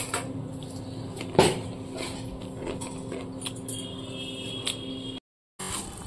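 A spoon and dishes handled close by: a sharp clink, then softer knocks and scrapes scattered over a quiet room, with no talk.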